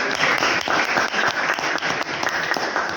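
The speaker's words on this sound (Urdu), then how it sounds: "اپنے لیے تالیاں بجا دیجیے" Dense, continuous applause from an audience at a closing ceremony of an educational program, steady and fairly loud for the full stretch with no voices on top.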